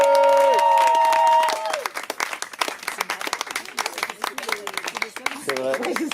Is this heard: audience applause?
yes